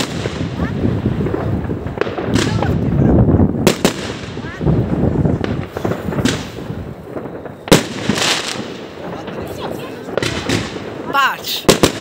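New Year fireworks bursting repeatedly, sharp cracks and booms scattered through the whole stretch at varying distances, some loud and close, with people talking excitedly over them.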